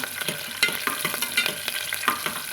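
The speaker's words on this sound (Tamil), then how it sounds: "பச்சை மிளகாய் சேர்த்துக்கிறேங்க கருவேப்பில் சேர்த்துக்கிறேங்க பூண்டு சேர்த்துக்கிறேங்க கலந்து விட்டுக்கலாங்க" Green chillies, curry leaves and garlic sizzle in hot oil in a pan as a spoon stirs them, giving a bright crackling hiss broken by repeated scraping strokes, close and with no voices.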